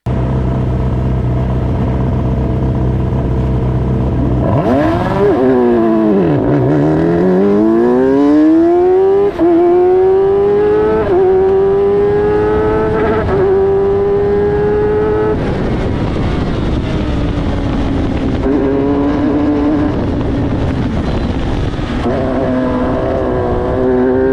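A loud engine roars and revs up through the gears at an F1000 race start, its pitch climbing and dropping as the car accelerates hard from close by.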